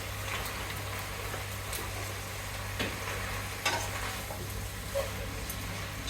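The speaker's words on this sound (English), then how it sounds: "whilst I put them in, Alexia will stir them through." Chicken noodles stirred and tossed in a hot pan, a steady low sizzle with occasional soft scrapes and clinks of utensils, close and moderately loud, no talking.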